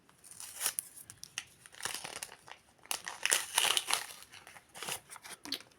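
Plastic packaging on a Barbie doll box crinkles and tears in bursts of close, brittle rustling as it is opened, with no one speaking.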